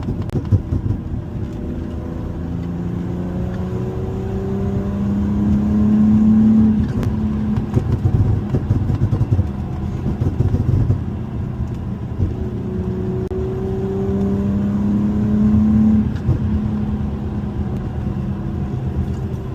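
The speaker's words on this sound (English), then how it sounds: "this is the accelerator. I'm going like this, pushing it, and that's how it pops." An Infiniti VQ37VHR V6 with an UPREV burble exhaust tune revs from a steady idle, swelling twice into loud throttle blips with rising engine pitch before settling back down.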